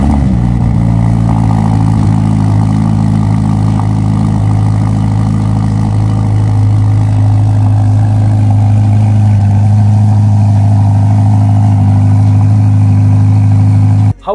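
A Ferrari Roma coupe's engine drones loud and close, a deep steady rumble that holds without a break, then cuts off abruptly at the end.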